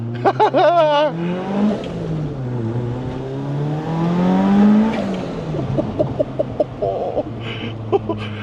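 A loud, revving built 550 hp Toyota 3S-GTE engine in a Toyota RAV4 climbs and falls in pitch through several gear changes, close by, with short pops and crackles near the end.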